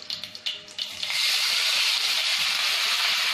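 Chopped onions dropped into hot oil with mustard seeds, urad dal, garlic and curry leaves for prawn bottle gourd masala: a few sharp crackles first, then a sudden loud, steady sizzling hiss that continues close up.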